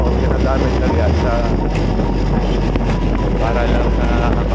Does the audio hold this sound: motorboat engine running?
yes